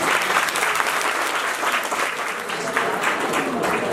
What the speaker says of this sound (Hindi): तालियां बजाते जाते